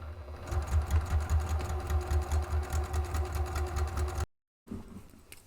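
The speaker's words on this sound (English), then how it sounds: "I'm going to run one row of stitching across to secure everything" A sewing machine runs one steady row of stitching across a bag's interior, a close, even mechanical whir with a rapid rhythmic needle pulse that stops abruptly, then a brief quieter handling sound.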